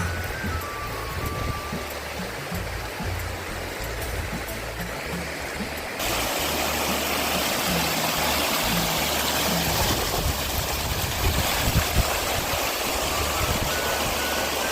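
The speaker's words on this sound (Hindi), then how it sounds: "कहीं ग्लेशियर जमे हुए हैं तो कहीं पिघल के झरने के रूप में नीचे आ रहे हैं।" Meltwater from Himalayan glaciers falls as waterfalls beside a mountain trekking route to Satopanth Tal, a steady broadband rush of water with no speech, growing louder and fuller about halfway through.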